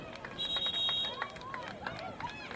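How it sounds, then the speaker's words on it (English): A steady electronic buzzer tone ends a high school boys soccer game, sounding for under a second over crowd noise and an excited commentator talking. "we have a buzzer"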